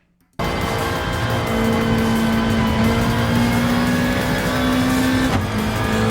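McLaren F1 race car engine in Gran Turismo Sport, a steady loud high-revving drone holding a sustained pitch throughout after an abrupt start, with a brief dip near the end as the car races past another competitor.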